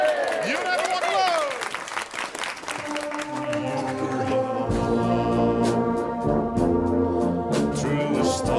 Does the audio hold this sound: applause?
yes